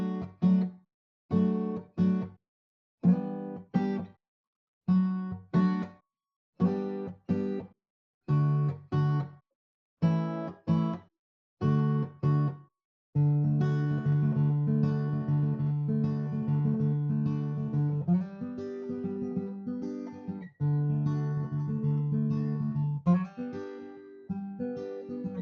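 Clean electric guitar triads on four strings move through a 1-4-5 progression in reggae style, first as short choppy offbeat stabs separated by silences, then as longer sustained ringing chords.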